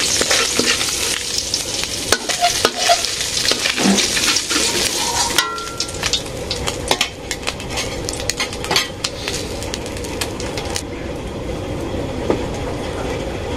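Cumin seeds tempering in hot oil in a village kitchen, a dense, steady sizzle and crackle running throughout with scattered pops and clicks of stirring, loud and close with no talking.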